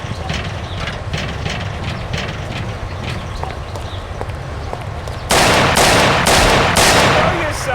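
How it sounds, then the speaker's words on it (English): Gunfire in the video game Mafia: The City of Lost Heaven, a dense burst of loud rapid shots hitting abruptly in the last few seconds over a busy background of game ambience and scattered clatter. "Lord, there's shooting here!"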